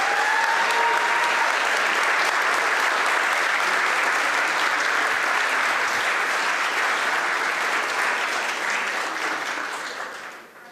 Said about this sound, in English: Can we have one more round of applause for all 7 of the teams?